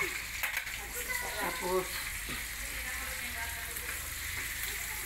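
Garlic sizzles in a frying pan as it is browned for beef steak, a steady crackling hiss with a little stirring, while a voice talks briefly over it.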